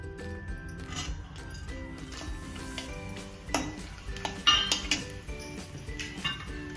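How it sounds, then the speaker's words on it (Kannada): Whole spices (cinnamon, cloves, cardamom, bay leaves) fry lightly in hot oil in a pan for pea pulao, a soft sizzle under frequent clinks and scrapes of a spoon stirring against the metal pan, with a few sharper knocks. "ಸೊ ಇದನ್ನೆಲ್ಲ ಒಂಚೂರು ಫ್ರೈ ಮಾಡ್ಕೊಳ್ಳಿ. ಲೈಟಾಗಿ."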